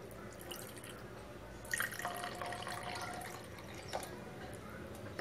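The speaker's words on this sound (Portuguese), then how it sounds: "Eu tenho aqui 1 litro de água e vou acrescentar um pouquinho de água sanitária." A little household bleach pours into a litre of water, making soft close trickling and dripping sounds with a brief splashy burst. No one speaks.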